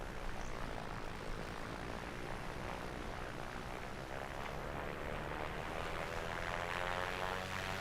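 Over Katmai National Park, a propeller airplane engine drones steadily in flight: a continuous, moderately loud hum with a faint rising whine and no talk over it.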